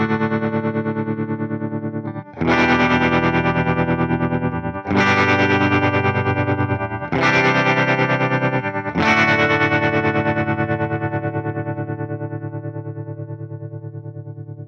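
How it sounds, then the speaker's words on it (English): Electric guitar through a Fender Tone Master Pro tube bias tremolo with speed, intensity and level at 8: four strummed chords with a fast, deep throbbing pulse, loud and close, the last one ringing out. "Now if we boost speed, intensity, and level up to 8, it sounds like this."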